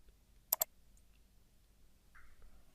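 A quick double mouse click on a green button in Simplicity Studio software, sharp and near, followed by faint room quiet and a soft short tone.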